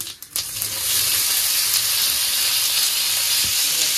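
Boiled potatoes go into a hot pan for a Mughlai paratha curry: a couple of quick knocks, then a loud, steady sizzle that swells and holds close for several seconds, with no voices.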